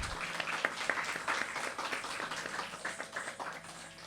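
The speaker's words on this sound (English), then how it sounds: "So please give a big round of applause to Gauri, Shariva, and Saanvi" Applause from a crowd, steady clapping that continues throughout at moderate volume, sounding like an audience in a hall.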